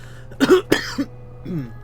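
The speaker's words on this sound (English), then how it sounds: "God, this cough." A couple of close, harsh coughs followed by a short throat-clearing rasp, loud and abrupt against a quiet background hum.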